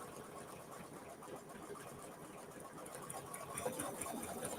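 An embroidery sewing machine stitches a Kimberbell mini-quilt with a steady, fast mechanical whir and faint rhythmic needle clatter, moderately quiet and continuous, with no talking.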